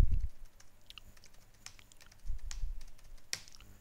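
A computer keyboard is used to type a root password on a Linux system, producing a quick run of close, light key clicks in short bursts, with a few louder taps and no talking.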